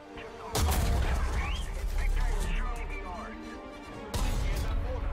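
The main gun of a TOG II heavy tank in War Thunder goes off twice, each a loud, sudden blast with a long rumbling tail, about three and a half seconds apart, over a steady engine drone.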